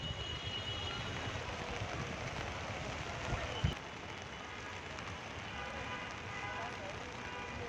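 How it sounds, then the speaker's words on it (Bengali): Heavy rain falls at night on a waterlogged street, a constant hiss of drops striking surfaces that continues without pause, with one brief bump partway through. "বৃষ্টিটা কেমন হচ্ছে আজকে রাতে"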